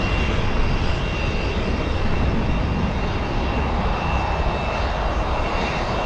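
Jet engine roar of a NetJets business jet arriving at Los Angeles International Airport, a steady, loud broadband rumble and whine holding throughout with no voices.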